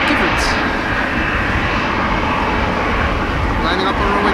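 A steady, loud roar of airliner engines at Amsterdam Schiphol Airport as an Embraer 195-E2 lines up for departure on a windy day, continuous and close throughout.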